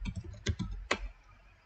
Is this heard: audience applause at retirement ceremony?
no